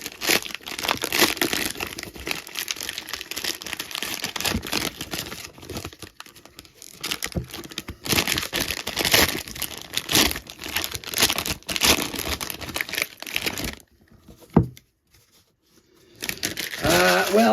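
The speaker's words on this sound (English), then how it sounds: "Let's open some cards." Foil wrappers on packs of 2023 Bowman Draft baseball cards crinkle and tear open in steady bursts, close to the mic, with a voice talking over much of it and a brief quiet stretch near the end.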